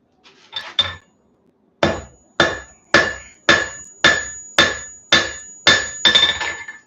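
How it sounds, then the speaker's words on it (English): Blacksmith hammering hot steel on an anvil while forging a wheat twist, about ten sharp ringing blows at a steady, slightly quickening pace after a few lighter taps, loud and close. "I'll squish it a little bit with my regular hammer, but then I'll quickly toss that out to the side and grab a cross peen and start spreading it"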